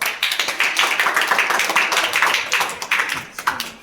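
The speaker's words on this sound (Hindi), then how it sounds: "वेरी फाइन, ताली बजाओ।" Many hands clap together in a fast, steady patter in a classroom, loud and close, continuing throughout with no voices.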